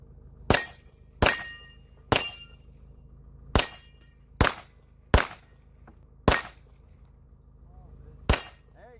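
Eight sharp gunshots ring off steel targets at a two-gun shooting match, each crack followed by a metallic clang, fired in an uneven rhythm at a moderate distance.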